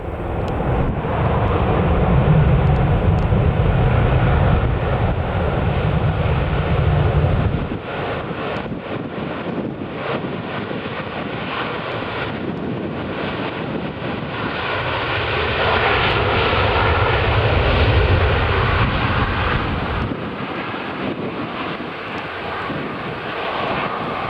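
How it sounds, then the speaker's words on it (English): Qatar Airways Airbus A350-900 coming in to land at Manchester Airport, a loud sustained jet engine roar with heavy wind buffeting, easing slightly midway then swelling again, with no talk. "Okay, just coming into land, we've got a Qatar Airways A350 900"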